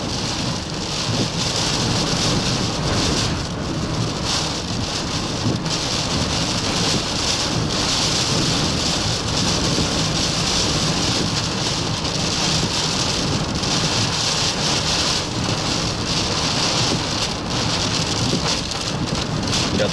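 Heavy rain from Category-1 Hurricane Nicholas pours steadily in Matagorda, Texas, a dense unbroken roar of rainfall with gusty wind buffeting the microphone and no voices throughout.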